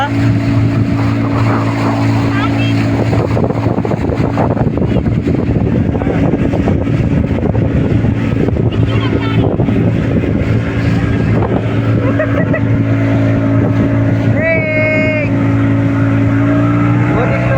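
A motorboat engine drones loudly and steadily on the water near Gandikota, a constant close rumble with wind buffeting the microphone and occasional voices underneath.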